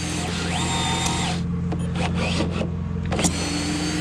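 Power drill boring into masonry while building lintel formwork on a construction site: loud, close whirring bursts that ramp up and down, with short pauses and clattering handling noises in between.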